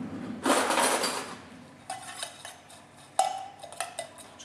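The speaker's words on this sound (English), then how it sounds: "just mix it together, just so that mayonnaise coats the apple" A spoon stirs chopped apple with Japanese mayonnaise in a bowl: a burst of wet scraping, then several sharp clinks and taps against the bowl, close by.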